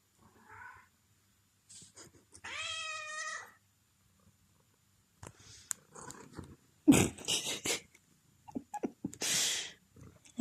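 A hungry house cat meows up close: a short faint call, a long drawn-out meow, then a run of rougher, noisier cries and snuffly sounds near the end.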